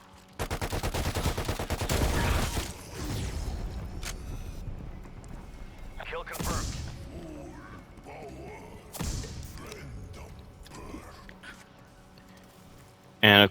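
HK21 machine gun from Cold War Zombies firing a rapid burst of close, loud shots in the opening seconds, then scattered heavier bangs and thuds, with someone talking throughout.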